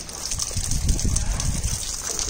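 Water splashes and trickles as feet are washed in a puddle among rocks near Kota, Rajasthan, after rain, a close, continuous gushing with small splatters.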